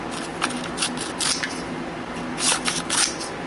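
Crisp, rapid snipping of five-blade herb scissors slicing through paper in quick repeated cuts, close by with a papery rustle.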